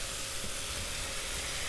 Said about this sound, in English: A little more sizzle there